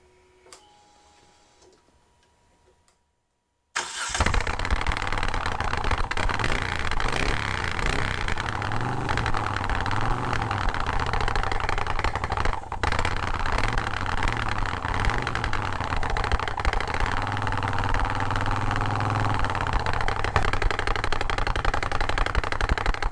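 A Moto Guzzi V7 motorcycle with a modified exhaust idles loud and close, a steady rumbling throb with an even, pulsing beat that holds throughout after a brief quiet start.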